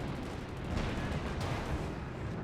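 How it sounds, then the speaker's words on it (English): Katyusha rocket artillery firing in Company of Heroes 2, a dense, continuous roar of launches and blasts with a couple of sharper surges, loud and unbroken throughout. "Katusha firing."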